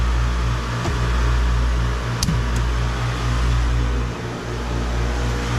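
An electric motor strains to drive a failing compressor, giving a steady low hum and drone that runs unbroken throughout, with a brief clunk partway through.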